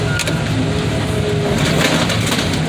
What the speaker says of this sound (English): Get that motor going, man.